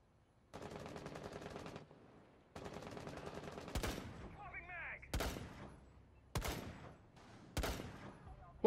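Sniper rifle shots in the tactical shooter Rainbow Six Siege: four sharp, loud reports spaced about a second apart, following two sustained bursts of sustained fire or noise early on.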